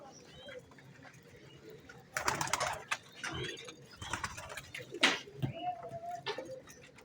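Pigeons cooing while eating grain, soft repeated throaty coos and bursts of wing flutter and pecking sounds, close and fairly quiet, with someone talking now and then.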